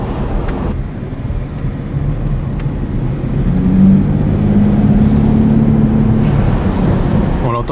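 A steady low V12 engine drone inside a moving BMW 750iA, rising slightly as it pulls, with a smooth intake hum, no exhaust noise, and constant road noise.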